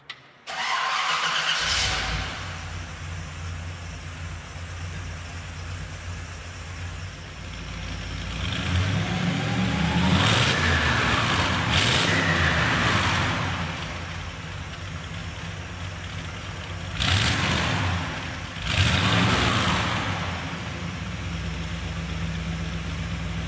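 A 1956 Ford F100 pickup truck's engine idles with a low rumble, then revs up in several loud surges with pauses back to idle between them, close by and with no talk.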